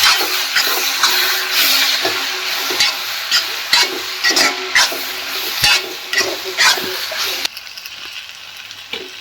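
A spatula stirs and scrapes a village-style mushroom curry in a pan after garam masala goes in, with busy clattering strokes over a bubbling sizzle, close and loud, easing off near the end.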